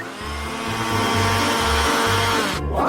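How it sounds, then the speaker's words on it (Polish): An electric hand mixer whirs steadily at close range, its motor pitch wavering as the beaters work through thick batter. "Zrobię to szybko za pomocą miksera."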